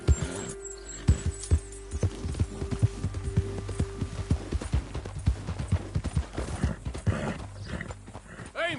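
Horse hooves clip-clop in a rapid, uneven gallop in Red Dead Redemption 2, loud and close, with occasional whinnies and a steady low hum, while voices talk over the riding.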